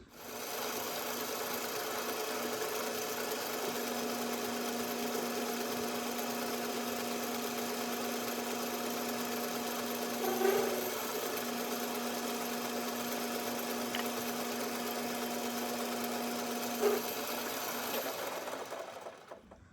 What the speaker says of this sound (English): Now I could use an angle grinder for this, but I got the lathe.